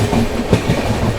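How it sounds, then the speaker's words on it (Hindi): The Arunachal AC Superfast Express, train 22412, runs through Govindpuri station without stopping, a loud, close, continuous rumble of wheels with rhythmic clickety-clack over the rails. "यहाँ पर अपनी अरुणाचल एसी स्किप कर रही है गोविंदपुरी को"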